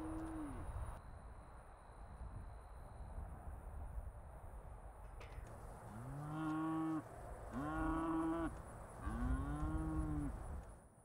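Cattle during fenceline weaning, cows and calves separated across a fence, give three loud, drawn-out moos in steady succession in the second half, following a stretch of quiet outdoor background with faint insect sounds.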